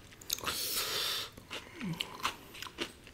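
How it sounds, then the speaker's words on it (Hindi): A large bite of cheese burst pizza is taken close up, with a soft crunch followed by quiet, wet chewing and small squishy sounds. The bite is faint and no one speaks. "अब बनाते हैं बड़ी बाइट।"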